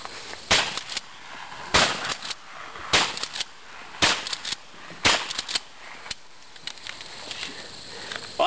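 Gunfire at a 3-gun shooting match: about eight loud, sharp shots, each with a short tail, fired at a slow, uneven pace roughly a second apart, close to the shooter with no talk between them.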